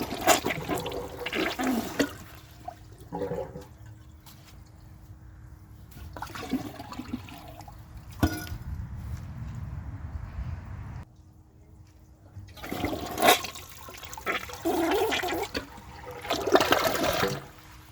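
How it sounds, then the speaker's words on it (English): A Gerber Maxwell wall-mounted toilet flushes twice, each a loud rushing swirl of water followed by quieter refilling and trickling, with a pause between the two flushes. "That second flush was actually really nice looking."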